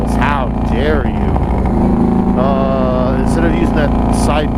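A 1997 motorcycle engine with side feed fuel injection runs at a steady idle, its continuous low rumble heard close up while a person talks over it.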